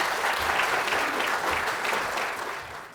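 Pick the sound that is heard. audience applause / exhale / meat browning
audience applause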